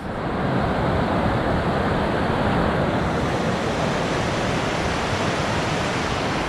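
Steady, full rush of creek water at a trail ford on a Great Divide Trail thru-hike between Waterton and Coleman, loud and close, continuous broadband flow with wind-like noise and no voices.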